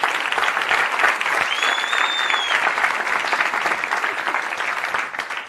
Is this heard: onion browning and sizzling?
no